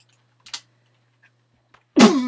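A person sneezes once, sudden and loud, right at the microphone during a Minecraft hardcore playthrough, after a few faint clicks and near silence.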